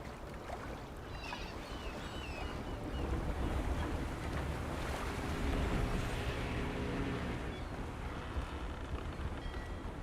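A boat sails across waves in the Throne and Liberty game, a continuous rushing wash of water and wind that swells in the middle and then eases.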